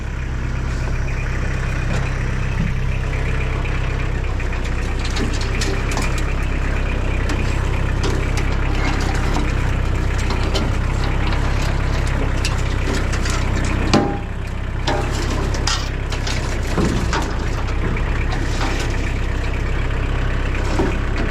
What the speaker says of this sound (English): You can push it with the tractor,